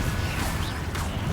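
The Confringo explosive spell fires in the Hogwarts Legacy video game, a short whooshing cast into a crashing impact with low rumble beneath.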